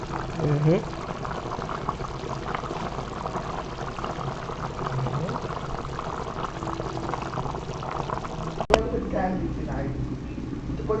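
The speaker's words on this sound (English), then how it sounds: "so the coconut milk boiling" Coconut milk bubbles and simmers steadily in a pot, a soft continuous boiling with a brief clatter near the end.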